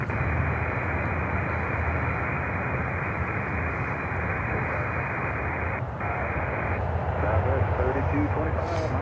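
A LATAM Boeing 767 cargo jet at Miami gives off a steady, loud broadband engine roar that holds for the whole stretch, swelling slightly near the end, with faint radio voices underneath.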